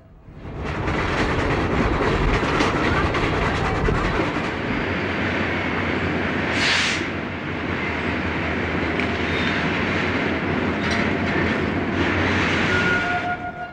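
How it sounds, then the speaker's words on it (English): A special train pulling into Kingston station on the Ulster & Delaware railroad, steady rolling rumble of cars with a brief high squeal midway and faint tones near the end, no talking. "The special train pulls into Kingston Station."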